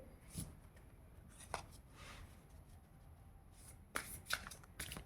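Tarot cards riffle and snap as they are shuffled and drawn from a deck, in soft, quiet bursts of flicking against a faint background, with no voices.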